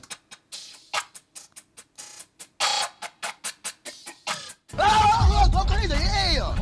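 A beat processed with the Looperator effect plugin in FL Studio: a run of short, stuttering rhythmic hits gives way after a few seconds to a loud, dense, continuous stretch of chopped music.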